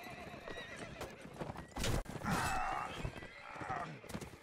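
A horse struck by a couched lance during mounted combat in Mount and Blade Warband, giving a loud whinny and pained snorts over hoofbeats and battle noise.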